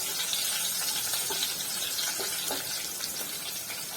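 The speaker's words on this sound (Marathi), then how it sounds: "कढीपत्ता टाकून घेऊ आपण" Curry leaves sizzling in hot oil while making rava upma. A steady, bright crackling hiss holds throughout, close and even, with small pops scattered through it.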